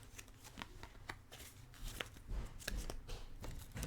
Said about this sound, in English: Please be patient while I shuffle